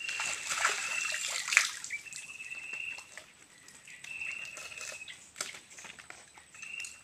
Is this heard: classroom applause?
no